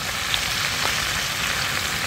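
Vegetables sizzling gently in a pan as dry ground spices are added for a Bengali sabudana khichuri: a steady, soft crackling fry with faint pops, no other sounds.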